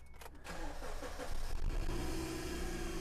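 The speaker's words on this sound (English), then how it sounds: "if I start the car" Holden Barina car engine cranking briefly and catching, then settling into a steady, fairly noisy idle with a belt noise under the bonnet, heard close by with no talking.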